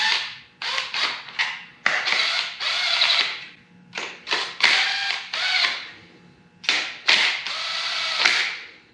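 Ratchet wrench running down crankshaft main bolts during a twin turbo engine build, a close, loud series of rapid clicking pulls in bursts with short gaps, repeated several times.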